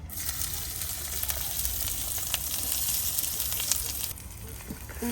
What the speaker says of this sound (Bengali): পেঁয়াজ কুচিটা তেলের মাঝে চুলাই রেখে নিব